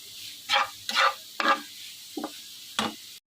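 Spices are stirred in a pan over raised heat: five distinct scraping strokes of a spatula against the metal, spaced about half a second apart, over a faint background with no talking.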